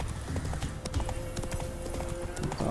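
Horse hooves clip-clop at a steady trot while riding toward a village in The Witcher 3, close and continuous, with a faint tonal hum beneath.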